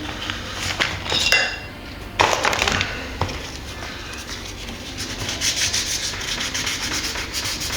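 Fine 800 grit sandpaper rubs over a rebuilt guitar headstock in quick repeated back-and-forth strokes, close and scratchy, with a few light knocks and clinks early on and steadier sanding toward the end.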